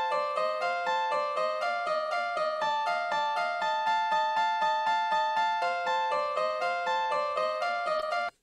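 A sweep synth version laid over a piano version of the same piece, heard as a steady, fast stream of repeated bright tonal notes that shift pitch in small steps and continue evenly before cutting off abruptly.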